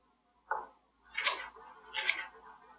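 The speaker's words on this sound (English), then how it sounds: "I like to flip the pepper around because it's easier to cut" A knife cuts a pepper into thin julienne strips on a board, with a few quiet, separate slicing strokes against a silent background.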